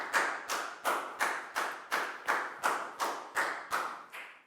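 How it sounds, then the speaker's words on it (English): About a dozen evenly spaced, loud unison claps from a Year 4 maths class, a slow rhythmic beat with each sharp clap decaying before the next, no talking. "Big round of applause for Bangpon"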